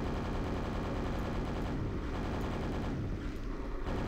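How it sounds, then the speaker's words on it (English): Super nail gun in Quake firing rapid, dense rattling bursts that stay loud and continuous, with gritty low rumbling and no voice over it. "I have a super nail gun now, though."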